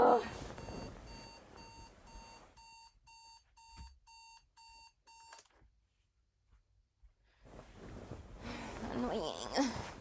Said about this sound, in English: I forgot to turn my fucking alarm off